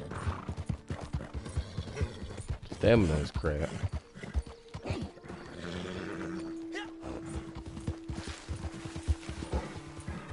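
Hooves clip-clop at a gallop from a fast but old, mangy horse in Red Dead Redemption 2 Online, with a whinny partway through, mixed with game sounds and someone talking over it.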